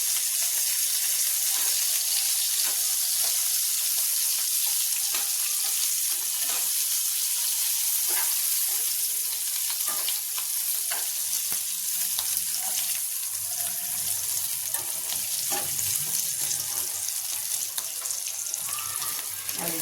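Stuffed Kathiyawadi chillies frying in oil in a pan, a steady close crackling sizzle that runs throughout with faint clatters.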